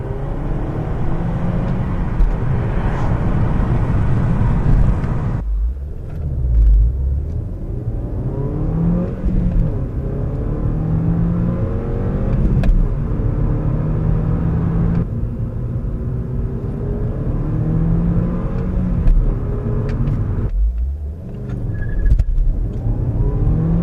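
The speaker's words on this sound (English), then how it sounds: "Just listen to the noise this car makes." A 2006 Seat Leon FR 2.0 TFSI engine revs hard in second gear and climbs in pitch, drops off briefly at each gear change, then surges again, loud and close from inside the cabin with the window slightly open.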